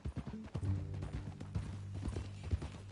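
Horse hooves clip-clop in an uneven walking rhythm in Red Dead Redemption 2, close and fairly quiet, with a low tonal hum underneath and no talking.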